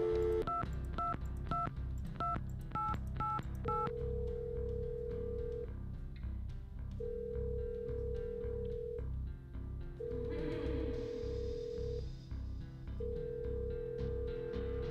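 Touch-tone keypad beeps dialing 555-6000 on a telephone in the video game Shivers II, a fast string of short tones followed by evenly spaced long ringback tones over a low background hum.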